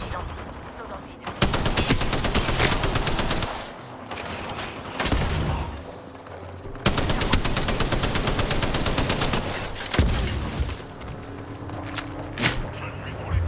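Bursts of rapid automatic gunfire in the Apex Legends video game, two long loud volleys with shorter shots and quieter gaps between them, with game voice lines in French mixed in.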